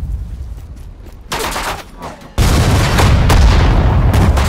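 Machine gun fire in the World War II strategy game Sudden Strike 4 during the Normandy invasion, as loud, dense battle noise that swells in stages into a sustained roar of gunfire and booms.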